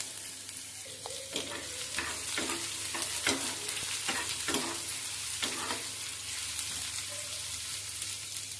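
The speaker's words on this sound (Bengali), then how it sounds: "পেঁয়াজটা হালকা ভাজা ভাজা হয়ে গেছে। এবার আমি রসুন কুচি" Chopped onion and garlic fry in a pan with a constant, fairly quiet sizzle, broken by sharp clinks and scrapes of a spatula stirring at irregular intervals.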